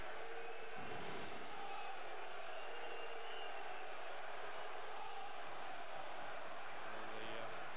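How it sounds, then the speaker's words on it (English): A football crowd at Gresty Road stadium, Crewe, cheers in a broad, distant roar that holds steady throughout, with a commentator talking over it. "the cheering that you can hear around Gresty Road"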